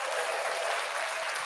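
Studio audience applause, a steady dense wash of clapping that stays loud and even throughout with no voices over it.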